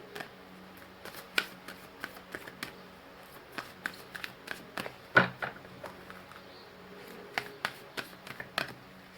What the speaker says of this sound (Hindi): आज 2 कार्ड्स निकालेंगे एंजल की तरफ से।